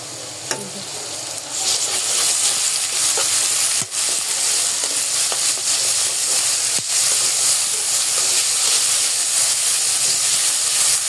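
Onions sizzle steadily in hot leftover fish-frying oil with garlic paste, a loud, close, continuous frying hiss broken by a few sharp clicks of stirring.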